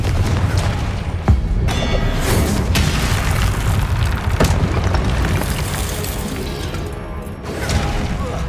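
Confringo fire-spell blasts in Hogwarts Legacy combat: loud booming explosions with crackling bursts over a dense battle din, with some faint voice.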